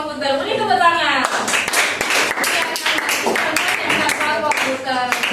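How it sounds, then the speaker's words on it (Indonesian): Students in a classroom clap their hands in a dense burst of sharp claps lasting several seconds, loud and close, after a short stretch of voices talking. "Beri tepuk tangan."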